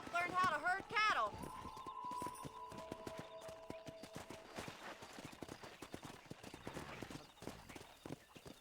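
Hoofbeats clip-clop steadily as a horse is ridden in Red Dead Redemption, the rapid clopping running throughout beneath a whinny at the start and a bright game-world ambience.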